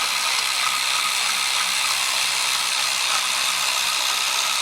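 A ratchet works loose the heat shield clamp on a Harley-Davidson muffler still mounted on the bike, giving a close, continuous dense clicking with no talk.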